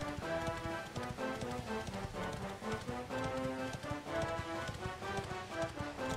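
Horse hooves clip-clop at a steady galloping rhythm in the video game Dragon Quest XI. The sound is continuous and moderately loud, with game music playing along underneath.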